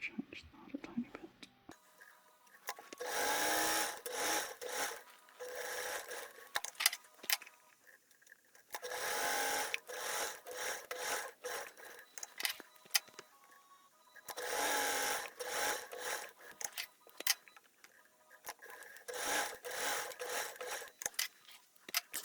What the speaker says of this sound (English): I'm going to be doing all of the sew lines that I've drawn